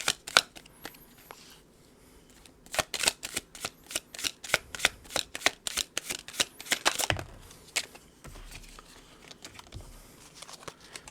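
A deck of tarot cards being reshuffled by hand, close, quiet rapid riffling and flicking clicks in bursts, with soft handling sounds between.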